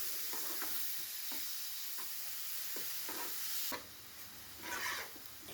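A tomato, onion and garlic paste fries in hot oil for paneer masala, a soft, steady sizzle broken by the scrape of stirring, fairly quiet and close.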